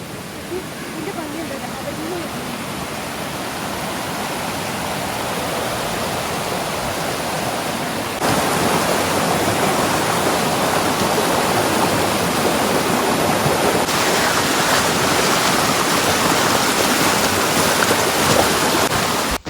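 A waterfall somewhere off to the side of a beach in the woods near Alta, Norway, gives a steady, dense rushing roar that carries on unbroken and turns noticeably louder partway through.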